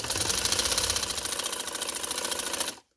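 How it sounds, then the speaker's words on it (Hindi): A sewing machine stitches fabric for a sleeve and trouser design, running in a fast, steady mechanical rattle for nearly three seconds before stopping abruptly into silence. "मैं इसके साथ साथ सिलाई लगा रही हूँ"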